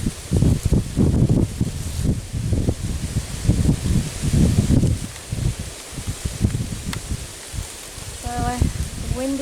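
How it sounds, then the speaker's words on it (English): Outdoor wind buffets the microphone in low, uneven gusts that rumble throughout, loud and close, with quiet ambience between the bursts. "The wind is getting up here"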